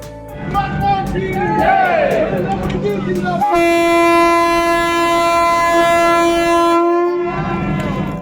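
A train horn sounds a long, steady, loud blast over rumbling rail noise as a sleeper-class Vande Bharat Express pulls away from Rangiya station, with crowd chatter before and after.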